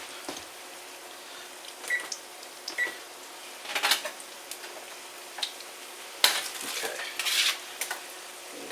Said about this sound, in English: them down on my pan, and I'm going to toast those